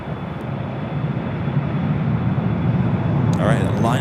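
An airliner takes off from LAX runway 24 left, a loud broadband engine roar that builds steadily, with a radio voice briefly heard near the end.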